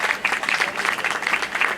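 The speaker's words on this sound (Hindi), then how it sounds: "तो ज़रूर चाहूँगा कि यहाँ पे तालियाँ चाहिए" Audience applause at a Krishna Diamond & Jewellers gold and diamond jewellery company event, a steady dense clapping from a crowd filling the space throughout.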